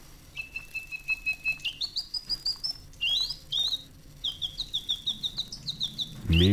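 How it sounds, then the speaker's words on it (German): A mechanical bird in a World War I horror video game chirps in rapid, bright repeated bursts, rising sweeps and rhythmic tweets in clustered phrases, loud and close, with a low thud at the end. "Mechanischer Vogel."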